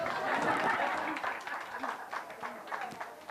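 Guests at a wedding sangeet clap in a brief burst that fades into scattered claps and murmuring crowd chatter, moderately quiet.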